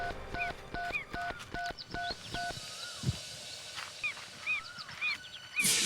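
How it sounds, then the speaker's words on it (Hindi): A phone keypad beeps through a quick series of dialing tones, followed by warbling electronic chirps, clear and close with no talking. "मैं तन्वी का नंबर फिर से ट्राई करता हूँ।"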